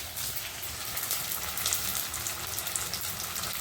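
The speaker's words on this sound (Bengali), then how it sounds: "মশলাটা কষানো হচ্ছে" Spice masala sautéing in a pan, prawns set aside nearby, gives a steady close hiss and crackle that holds evenly throughout with no voices.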